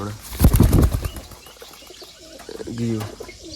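Pigeons burst into flight with loud, rapid wing flaps, then soft cooing follows; a person speaks briefly at the start.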